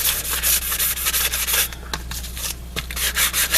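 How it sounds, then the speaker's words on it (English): Sandpaper worked back and forth over a wooden picture frame before painting, a close, continuous rasping scrub with quick rhythmic strokes and a brief lighter pause midway. "I'm just going to sand it a bit"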